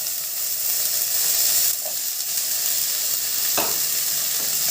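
Brinjal sautés in a hot pan for pulicha keerai kadaiyal, giving a steady close sizzle and hiss with a couple of brief stirring scrapes, no talking.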